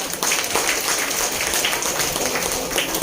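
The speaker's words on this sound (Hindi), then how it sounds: "एक बार जोरदार ताली होनी चाहिए।" Enthusiastic applause from an audience at an award ceremony in India, steady crackling claps continuing throughout at moderate loudness with no talking.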